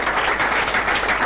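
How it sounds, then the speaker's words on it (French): Audience applause at a live comedy show, a dense steady wash of clapping from a crowd, fairly loud and continuous throughout the short stretch with no voices on top. "On va applaudir très très très fort."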